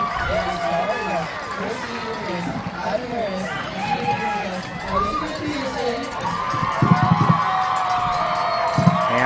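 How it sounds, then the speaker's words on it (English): A large crowd at a high school homecoming football game cheers and shouts loudly and continuously, with whoops and chatter rising and falling, plus bursts of louder yelling near the end. "loud and raucous crowd"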